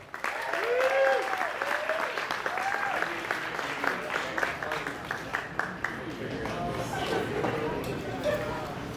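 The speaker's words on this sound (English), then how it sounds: "give a huge round of applause. The very, very funny Tim Ahrens." Sustained audience applause at a live comedy show at Schulz Brau fills the room, dense clapping throughout with cheering voices mixed in, loud and steady for the whole stretch.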